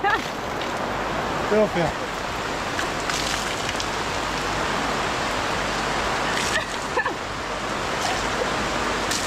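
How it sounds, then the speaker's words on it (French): Heavy rain pours steadily onto a camping awning in a rainforest area, a dense continuous wash of noise at close range, with a person speaking briefly over it. "La pluie était beaucoup trop forte."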